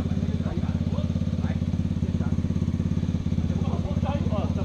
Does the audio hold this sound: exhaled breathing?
no